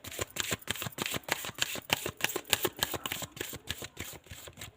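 Tarot cards are shuffled and drawn in a brisk, steady run of crisp riffling flicks, close and fairly quiet, with no talking.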